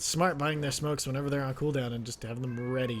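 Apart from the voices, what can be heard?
pet cat meowing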